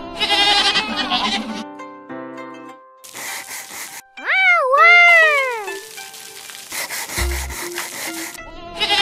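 A cartoon sheep gives a drawn-out, wavering bleat in a children's nursery rhyme about a black sheep, set between bursts of bright music with no talking.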